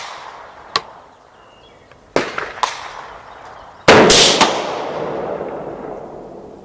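Rifle fired at a 200 yard target with a Sightmark Rapid AR 3-12x32 BDC scope: a few sharp cracks, then one loud blast near the end with a long echoing tail, outdoors with no talking.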